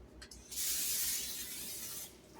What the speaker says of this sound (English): I'm going to spray this with some extra olive oil spray